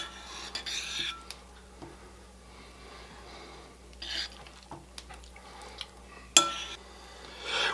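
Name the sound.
big spoon working rice vinegar into sushi rice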